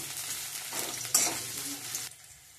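Food frying on low heat until golden brown, a soft sizzle with a couple of brief stirring scrapes and a sharp clink, fading quieter at the end.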